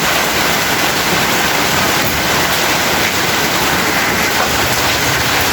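Steady, loud rain pours down behind a house where a newly built drainage canal is being tested, a dense unbroken hiss with no gaps, no other sounds rising above it.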